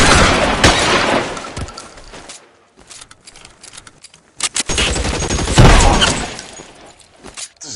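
Bursts of heavy automatic gunfire and shattering impacts in a PS4 shooter game, loud and dense, breaking off into a lull before another long volley.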